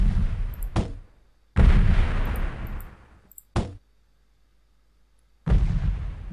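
Grenade blasts and gunfire in the video game Delta Force: four loud, abrupt booming bursts, each fading out over a second or so, separated by near-silent gaps.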